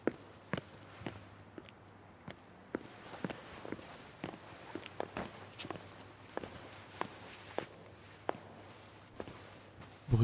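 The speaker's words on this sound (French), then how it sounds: "Bruit de pas." Footsteps of someone walking away across a floor, about twenty distinct sharp steps at a steady walking pace, moderately close and clear, with no talking over them.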